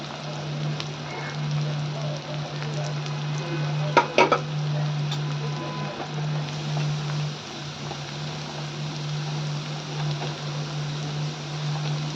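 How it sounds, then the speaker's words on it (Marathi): Soft, steady sizzle of onion frying in hot oil, with a constant low hum beneath and a couple of brief clatters partway through. "त्यामध्ये आपण सगळ्यात पहिल्यांदा कांदा छान लाल लालसर परतून घेऊ"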